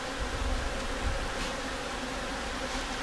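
Honey bees buzz steadily around an open beehive in Iceland, a dense, continuous hum with no talk, close and fairly loud throughout.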